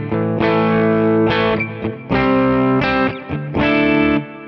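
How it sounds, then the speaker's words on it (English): Strat-style electric guitar switched to the bridge humbucker through a clean Quad Cortex amp model, just beginning to break up, strumming several separate bursts of bright chords that ring out, loud and close. "If I go to the bridge humbucker"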